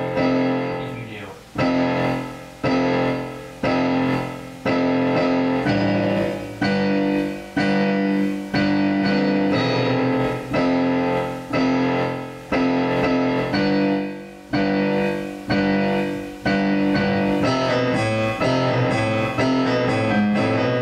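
Solo piano plays the Godzilla theme from Terror of Mechagodzilla, with heavy repeated chords struck in a steady pulse and sustained between hits, loud and close with no voice over it.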